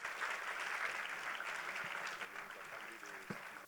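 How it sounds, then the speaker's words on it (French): An audience at the Créo'la pageant finale applauds Kendali Fell with a steady wash of clapping that holds evenly throughout, moderately distant, with a faint murmur of voices mixed in. "Je vous demande de l'applaudir."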